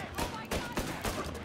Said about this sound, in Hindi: भाई क्या ही गोलियां चला रहा है यहाँ वहां पूरी है